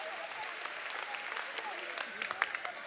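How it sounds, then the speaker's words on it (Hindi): An audience claps for a child at a spiritual discourse gathering, a fairly soft spread of applause heard at some distance with scattered sharper claps. "ताली बजाओ इस बच्चे के लिए।"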